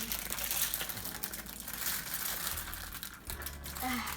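A plastic brownie-mix bag crinkles and rustles continuously as it is pulled open in a home kitchen, steady and close, with no one talking.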